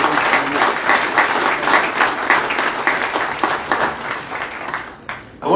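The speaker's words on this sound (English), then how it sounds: "I want to give them a round of applause again." Audience applause at a Chanukah event in Richmond, BC: sustained, dense clapping from a crowd that fades toward the end.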